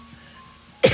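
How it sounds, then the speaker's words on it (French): A single short cough bursts out at the very end, loud and close after near-silence, from a person describing an itchy throat in a mediumship session. "j'ai tout ça qui me gratte et j'ai envie de tousser"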